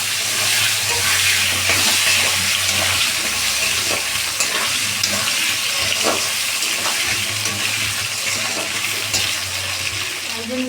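Cumin seeds and potatoes fry in hot oil for a fish curry, giving a loud, continuous close sizzle with scattered stirring scrapes and clinks.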